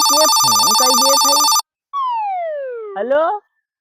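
A telephone rings loudly with a repeating electronic melody, breaks off briefly, then resumes with a falling tone and a short jingle, up close with no talk over it.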